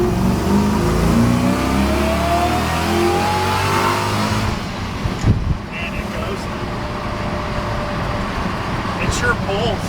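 Supercharged Lexus-swapped 1966 Toyota Stout truck engine pulling hard under acceleration, a loud sustained roar with rising tone over several seconds, then easing off into lighter road and wind noise.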